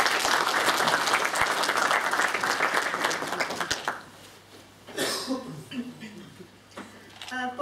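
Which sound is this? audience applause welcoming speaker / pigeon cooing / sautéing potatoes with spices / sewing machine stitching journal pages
audience applause welcoming speaker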